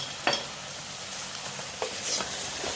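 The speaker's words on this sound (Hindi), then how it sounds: "इसके अंदर ये लहसुन अदरक का डालेंगे और बस अब इसको अच्छी तरह से हमने भूनना है" Garlic ginger paste fries in a pan with a soft, continuous sizzle. Occasional scrapes of a spoon stirring it sound close and fairly quiet, with no talking.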